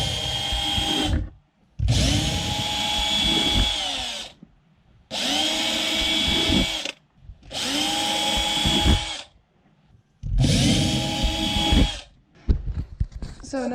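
A power drill bores holes into a plastic water tank in five long whining runs separated by short pauses, loud and close, with a brief clatter at the end.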